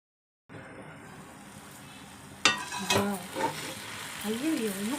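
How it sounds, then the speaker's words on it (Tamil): Tomato chutney sautés in a pan over a medium flame, a soft steady sizzle that starts after a moment of silence, joined by louder stirring scrapes and clacks of a utensil, with brief voices over it toward the end. "மீடியம் ஃப்ளேமில் வச்சு நல்லா வதக்கலாம்"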